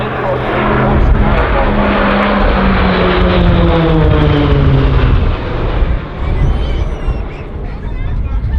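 Pilatus PC-9A propeller aircraft of a Royal Australian Air Force aerobatic formation pass at an air display at Point Cook, their engine roar loud and sustained with a Doppler pitch drop, crowd babble faintly beneath.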